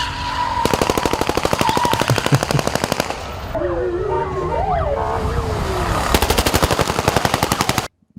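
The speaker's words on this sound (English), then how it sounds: "they were shooting into the air at every sort of the wedding" Rapid automatic gunfire bursts fired into the air at a wedding in Dagestan, loud repeated volleys at the start and end with a pause between, while a siren-like wailing rises and falls in the middle section.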